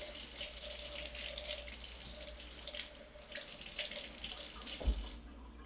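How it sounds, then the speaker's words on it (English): Farmer's market apples rinsed under a running kitchen tap: a steady, close rush of water with no speech, ending in a brief clunk. "I better rinse these off."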